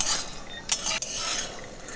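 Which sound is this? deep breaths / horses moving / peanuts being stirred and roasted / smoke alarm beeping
peanuts being stirred and roasted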